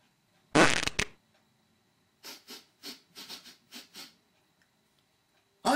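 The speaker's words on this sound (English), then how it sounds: "I must have farted." A short, loud burst of flatulence opens, followed by a string of softer breathy puffs in an uneven rhythm, close and otherwise quiet.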